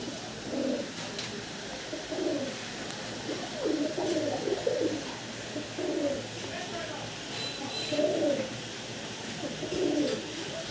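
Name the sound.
pigeons cooing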